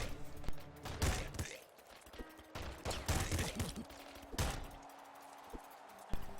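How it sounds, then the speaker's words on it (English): Assault rifle fire in the top-down shooter Nuclear Throne comes in sharp, punchy bursts spread across the span, with quieter gaps of game ambience between volleys. "the bullet type guns, such as this assault rifle, doesn't do a lot of damage, but you get more ammo"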